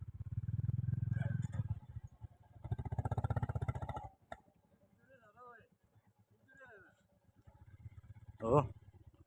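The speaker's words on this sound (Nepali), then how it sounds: "साथीहरूले यहाँ अब बाइक घुमाउँदैछ।" A motorcycle idles and revs nearby in two loud bursts, then drops to a low murmur as it is turned around, with people talking close by.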